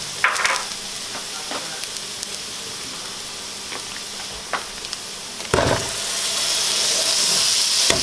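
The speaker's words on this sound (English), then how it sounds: "you're gonna saute this for about a minute" Butter sauce for homemade Alfredo sautés in a pan with a steady sizzling hiss, punctuated by sharp utensil clicks and stirring scrapes, swelling louder toward the end.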